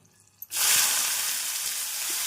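After a quiet moment, a sudden loud sizzle erupts as chopped onions hit hot oil while making chicken chukka, then keeps crackling steadily.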